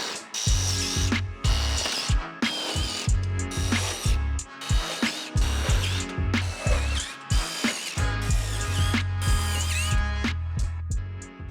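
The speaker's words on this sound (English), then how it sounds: "now we can go ahead and throw about 3 self-tapping screws in each section just to get everything secured together" A ratchet clicks in quick repeated bursts while driving self-tapping screws into sheet-metal woodstove piping, loud and close, with short pauses between runs and a few metallic knocks.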